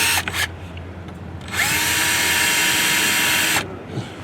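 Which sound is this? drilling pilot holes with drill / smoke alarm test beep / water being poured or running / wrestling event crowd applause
drilling pilot holes with drill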